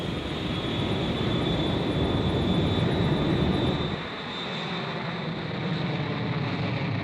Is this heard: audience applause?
no